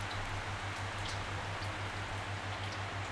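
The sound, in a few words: rain recorded at night at a forest Buddhist temple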